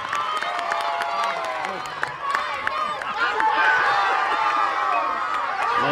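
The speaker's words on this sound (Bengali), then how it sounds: "তাদের জন্য একটি জোরে করতালি।" Crowd applause and cheering fill the air at a school inter-house annual sports competition prize ceremony, a steady, loud wash of clapping with occasional whoops lasting several seconds.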